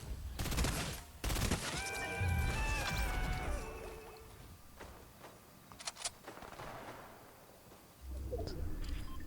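Fortnite gunshots ring out in a quick burst early on, followed by a few scattered, quieter shots, with ambient game sounds and bird-like chirps between.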